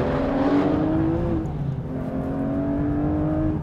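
A front-engined sports car such as an Aston Martin V12 Vantage S, Mercedes-AMG GT R or Porsche 911 GT3 RS accelerates hard, its loud engine note rising steadily through the gears, close and continuous with no talking.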